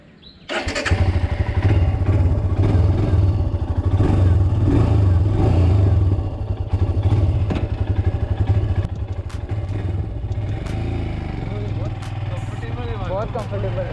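Royal Enfield Scram 411 motorcycle starts up and rides off, a close, steady single-cylinder thrum with rising revs and wind and road noise, a voice speaking over it.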